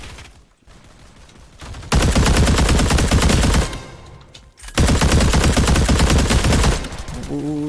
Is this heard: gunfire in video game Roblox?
yes